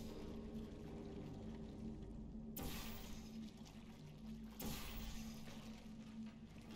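Thick gel goop pours steadily in Portal 2, a continuous watery gushing stream with two sharp splashing surges partway through, heard fairly close and alone.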